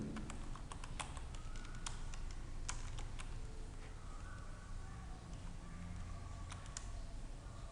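Java code is typed on a computer keyboard in short bursts of sharp, quiet key clicks, close and irregular, with no talk.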